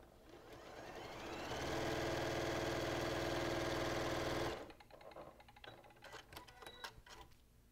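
A sewing machine stitching quilt pieces runs in a steady, loud whir for about three seconds, then stops abruptly, followed by scattered clicks and handling noises, close by.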